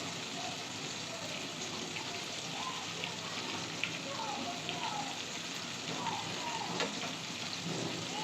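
Chicken pieces fry in a pan over a low flame, giving a soft, continuous sizzle and crackle that stays faint and even throughout.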